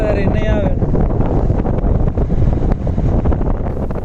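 Strong wind buffets the microphone at Kaup Beach near Udupi, a steady loud rumbling roar throughout, with a brief whistling tone at the start and no clear speech.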